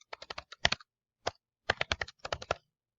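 A file name being typed on a computer keyboard: short clusters of crisp, close key clicks separated by brief pauses, in a quiet room with no talking.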